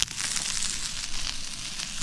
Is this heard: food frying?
yes